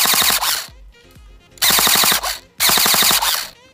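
A homemade airsoft gun built from spare parts fires in three rapid full-auto bursts separated by short pauses, loud and close, with no talking.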